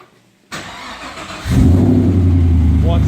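A Pontiac GTO with an LS2 V8 and rod knock cranks briefly and then catches, settling into a loud, rough idle up close.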